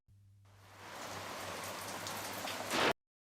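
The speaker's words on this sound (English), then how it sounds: "it's even better when it's rain storming through the entire episode" Heavy rain pours down in a storm scene from the TV drama Diagnosis Murder, a dense, hissing downpour that builds in volume, holds steady, swells briefly louder, then stops abruptly, with no voices.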